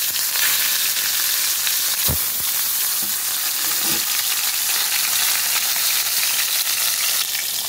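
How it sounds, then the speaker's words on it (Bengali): Kalibaus fish fry in hot oil with a loud, steady, hissing sizzle that fills the whole stretch, broken by a few low knocks and clatters of the pan. "এখন আমি মাছগুলো আস্তে করে ছেড়ে দেবো, ভালো করে ভেজে নেব"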